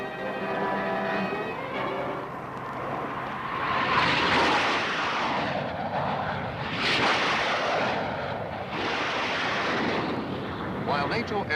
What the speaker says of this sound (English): While NATO aircraft are on their way to attack deep in the enemy homeland